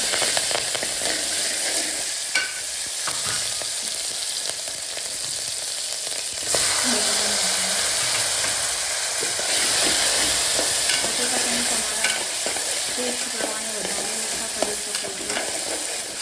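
Cumin, asafoetida and green chillies sizzle in hot oil. A continuous crackling fry is punctuated by the scrape and clink of stirring in the pan.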